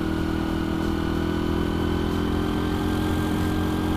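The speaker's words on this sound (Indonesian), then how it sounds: "Yuk kita coba gas seberapa banter si Honda Win ini ya" A Honda Win 100 motorcycle engine drones steadily and close, with a constant low, buzzing hum and a slight rise in pitch as it is throttled up. There is no talk over it.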